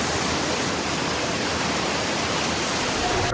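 Floodwater from rivers overflowing in Bantaeng Regency, South Sulawesi, surges through a residential neighbourhood as a steady, loud, broadband roar of rushing water, continuous and unbroken with no voices.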